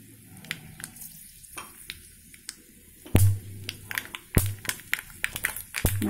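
Spices tempering in hot oil for an amla (Indian gooseberry) pickle, a soft steady sizzle with scattered sharp crackles and pops that grow busier in the second half, no talking.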